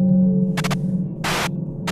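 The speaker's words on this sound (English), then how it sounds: "White noise?" White-noise static in an SMG4 cartoon hisses in a quick triple burst, then a longer quarter-second burst, then one more short crackle, all over a steady low electrical hum.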